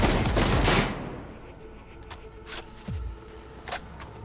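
Automated security turrets open fire in Cyberpunk, a loud burst of rapid gunfire up front, then fainter scattered shots and clatter trailing off.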